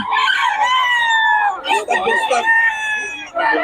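A bullstag rooster crows at a gamefowl farm, long drawn-out calls repeating close and loud, with other fowl clucking and people talking around it.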